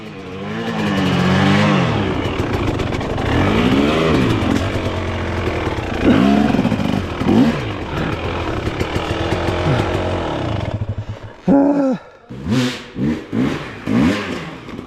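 A dirt bike engine revs hard on a slippery hill climb, rising and falling in loud throttle bursts that turn into short choppy blips toward the end.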